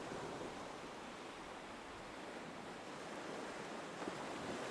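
Ocean waves wash in a soft, continuous broadband hiss, faint and distant, steady throughout with no voices.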